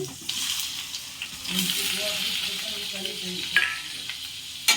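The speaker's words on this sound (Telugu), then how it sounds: "ఇప్పుడు నెయ్యిలో పన్నీర్ పీసులు అయితే వేసుకుంటున్నాను ఫ్రై చేసుకోవడానికి" Paneer pieces fry in ghee with a close, steady sizzle and bubbling crackle, with a spoon stirring and scraping now and then and a faint voice in the background.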